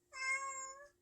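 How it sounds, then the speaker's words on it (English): A single cat meow, close and clear, rising and holding steady for most of a second before fading, with no other sound around it. "Why are you meowing?"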